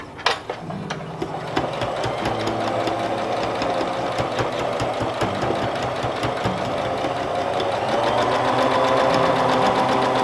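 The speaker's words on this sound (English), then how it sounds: "my sewing machine is very old and very fidgety." An old sewing machine stitching steadily, its motor whirring with a rapid mechanical clatter that runs continuously and close by.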